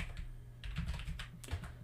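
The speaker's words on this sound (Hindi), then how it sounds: "कीबोर्ड से कंट्रोल ए प्रेस करेंगे और यहाँ पे टाइप करते हैं" Fingers type on a computer keyboard while working in CorelDraw, a quick run of soft, close key clicks over a low steady background hum, with no voices.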